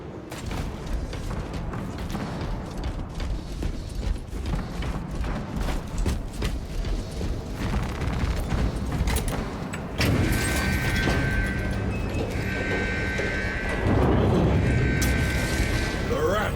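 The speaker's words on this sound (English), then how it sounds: "Pull the elevator." An elevator moving in the video game Warhammer 40000: Space Marine 2, heard as a low mechanical rumble with creaks and heavy clanks, shifting into a louder grinding drone partway through, with in-game voices and music over it.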